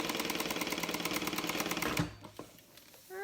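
A sewing machine runs steadily and close for about two seconds, topstitching a bag with a fast, even mechanical chatter, then stops, leaving faint clicks and handling sounds.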